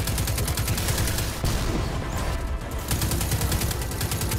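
Sustained rapid gunfire from the video game Destiny 2 during a Strike mission, a dense continuous barrage of repeated shots with heavy low booms, loud and close, with a brief lull in the middle before the automatic fire resumes.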